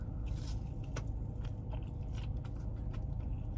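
Chicken tenders and fries dipped in Cane's sauce being bitten and chewed close up, with soft wet crunches and squishy mouth sounds repeating steadily under a low background hum, no talking.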